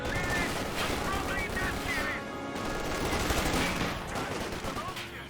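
Gunfire from the wartime strategy game Company of Heroes 2 as grenadiers fight at street intersections, rapid bursts of rifle and machine-gun fire crackling continuously, fairly distant and moderate in level, with a commentator talking over it.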